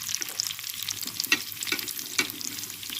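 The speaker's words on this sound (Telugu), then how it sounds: "ఒక పెద్ద సైజు ఉల్లిపాయ కట్ చేసుకుని దీంట్లో వేసుకోండి." Chopped large onion frying in hot oil in a pan for a vakaya and mamidikaya curry, a steady close sizzle broken by a few sharper crackles and stirring scrapes.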